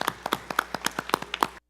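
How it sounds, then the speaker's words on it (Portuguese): A brief smattering of handclaps at a legislative assembly session, a dozen or so sharp claps in quick uneven succession, then abruptly cut off. "o senhor deputado Gerson Luiz Bittencourt, a quem eu peço uma salva de palmas"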